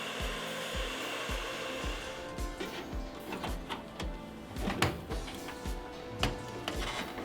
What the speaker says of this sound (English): To expedite the process, feel free to use a hairdryer.